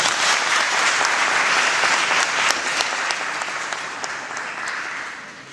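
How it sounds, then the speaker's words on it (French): An audience at an interreligious debate applauds warmly, a sustained burst of clapping from many hands that gradually tapers off. "On peut les applaudir?"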